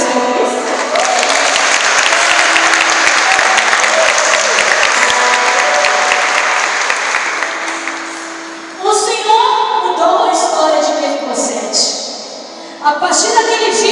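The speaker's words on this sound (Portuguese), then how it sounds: "Pode aplaudir o Senhor?" A church congregation applauds in loud, sustained clapping for several seconds, with music and voices rising over it as the clapping subsides.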